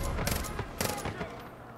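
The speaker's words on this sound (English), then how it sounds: "I hear a gunshot." Gunfire in the video game Far Cry New Dawn, several sharp broadband cracks in quick succession like a short burst, moderately loud over a steady game background.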